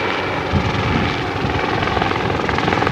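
A helicopter comes in to land during a 1986 wildlife rescue operation in Malawi, its rotor thumping steadily and loudly throughout, with no speech over it.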